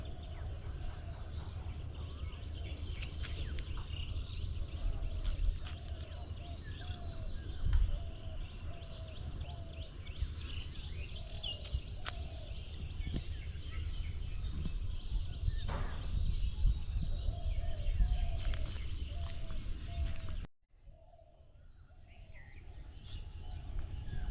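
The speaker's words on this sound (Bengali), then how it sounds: "আজকে অনেক ঘুঘু ডাকছে" Doves coo in a steady repeating series of soft low calls on a windy spring morning in Bangladesh, set against constant outdoor noise and a low rumble of wind.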